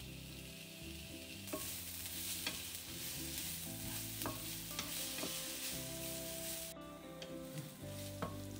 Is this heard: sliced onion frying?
yes